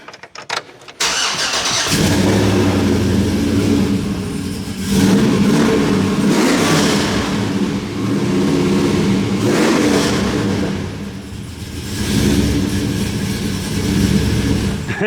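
A car engine cranks and catches close by, then revs hard in repeated surges that swell and ease back toward idle, loud and alone throughout.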